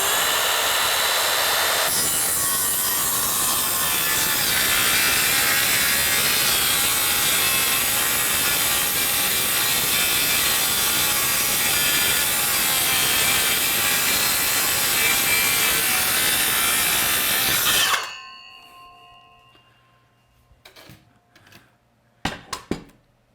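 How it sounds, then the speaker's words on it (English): A saw rips lengthwise through a board in one long, loud, continuous cut lasting about sixteen seconds, then stops abruptly, leaving a few scattered knocks and clatters as the wood settles. "let's go ahead and rip this all the way"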